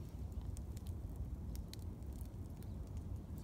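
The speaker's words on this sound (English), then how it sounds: "Welcome to my campfire." A campfire burns outdoors in the Okanogan Forest on a cold morning, giving a steady low rumble with scattered soft crackles and pops close by, and no voices.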